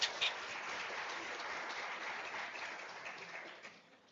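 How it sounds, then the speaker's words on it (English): A conference audience at a national records management conference claps in a sustained round of applause that starts sharply, holds steady and then tapers off gradually near the end, heard from a moderate distance. "Another round of applause,"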